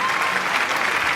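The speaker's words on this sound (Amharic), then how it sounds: "በደንብ አድርጋችሁ አጨብጭቡላቸው።" An audience claps steadily in applause for children at a school program, a dense continuous patter filling the whole moment with no voices over it.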